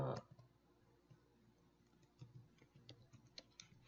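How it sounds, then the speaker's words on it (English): Computer keyboard typing at a desk, a run of soft, irregular clicks and ticks that grow busier toward the end, faint and close, with no voice over them. "Please don't start yelling at me about my typing."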